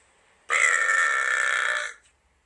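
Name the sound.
burp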